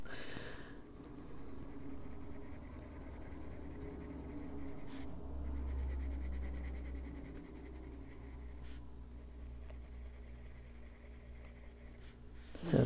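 Colored pencils are applied to paper in layered coats, giving a faint, continuous scratchy rustle of steady strokes throughout.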